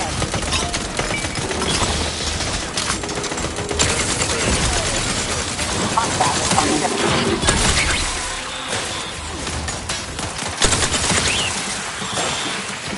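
Dense, sustained gunfire in the sci-fi shooter Outer Worlds 2, bursts of automatic fire mixed with crashes and whooshes, loud and continuous throughout.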